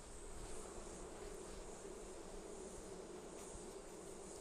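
A faint, steady buzz of honeybees around an open hive during a beekeeping inspection, a continuous low drone with no voices.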